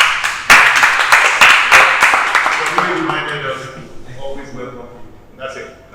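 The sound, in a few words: audience round of applause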